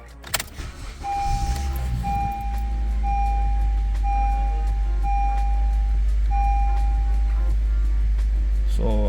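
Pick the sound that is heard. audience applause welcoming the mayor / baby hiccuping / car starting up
car starting up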